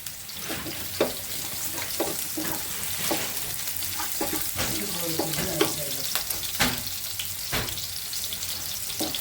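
Panch phoron spices and bori lentil dumplings sizzle and crackle steadily in hot oil in a pan, with occasional stirring clinks and a running tap nearby.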